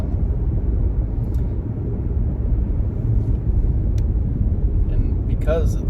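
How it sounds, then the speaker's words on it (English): A supercharged, stage 1 tuned Audi engine sends a steady, loud low rumble and drone, with faint higher chirps near the end. "That's a supercharger."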